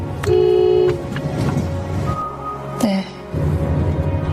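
A car horn honks one long steady blast, loud and close, over a dense rumbling background of traffic or music, followed by a second, shorter tone.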